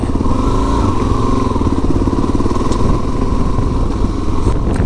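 A fully stock motorcycle is ridden, its engine droning loud and close with a steady, rough mid-pitched hum and slight variations in throttle throughout, with no talk over it.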